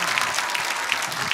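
Audience clapping at a rally, a brisk continuous patter of many hands at moderate loudness, steady for the whole short stretch.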